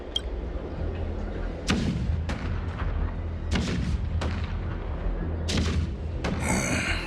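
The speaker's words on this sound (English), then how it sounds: "The rumble of the cannons." Heavy cannon blasts in the video game Honkai: Star Rail boom out repeatedly at irregular intervals over a constant low rumble, loud and close, with a sharper crackle near the end.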